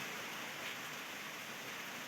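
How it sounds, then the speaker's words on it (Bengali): Soft, even rain falling, a faint continuous hiss with no talking. "বৃষ্টি পড়ছে, দেখতেই পাচ্ছ সবাই তোমরা।"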